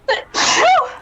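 A person sneezes loudly and close by, with a quick sharp intake followed by a drawn-out, voiced burst fading out.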